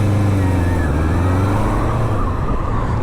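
A 1978 Honda CB550F with its four-cylinder engine running, a smooth, steady low drone close by that holds even throughout, with a faint whine riding on top.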